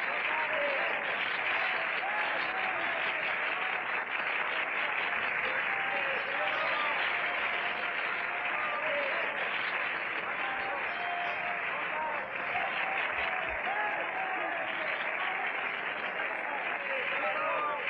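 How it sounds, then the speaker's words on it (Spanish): A large wrestling arena crowd applauds a masked wrestler, steady dense clapping sustained throughout at an even level with a murmur of voices mixed in. "si el respetable está conforme, suplicamos hágalo saber con un aplauso."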